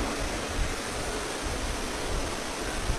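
Heavy rain pours outside a large tent at a religious discourse gathering in Gurugram, Haryana, as a dense, loud, unbroken hiss that stays steady throughout with no voices over it.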